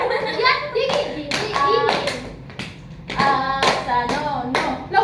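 Children's hand-clapping game: sharp, close claps land in quick pairs and short runs, mixed with a child's chanting and chatter between the slaps.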